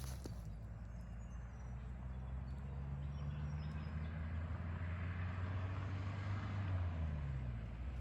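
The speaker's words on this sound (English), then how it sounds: "I can hear a car." A car drives somewhere out in the remote bush, a low distant engine rumble that slowly rises and falls in pitch over a faint outdoor background.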